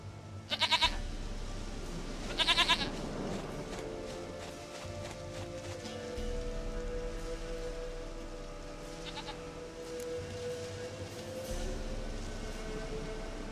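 A goat in The Witcher 3 gives two short, close bleats near the start, then a fainter one later, over a steady low ambient hum.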